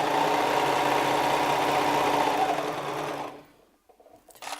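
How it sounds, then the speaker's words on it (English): A serger overlocks fabric while sewing a gusset, a fast, loud mechanical whir held for about three seconds, then stopping, followed by a few faint handling sounds. "Now we're going to take it to our serger, and we are going to serge."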